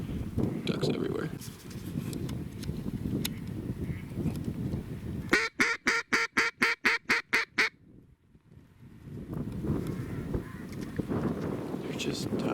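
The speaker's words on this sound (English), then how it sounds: "I'm also really thankful for all these ducks. They're everywhere." Mallard ducks in a marsh let out one quick burst of about ten loud, evenly spaced quacks. Before and after it, people talk over steady outdoor background noise.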